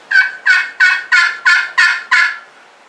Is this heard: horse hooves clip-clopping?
no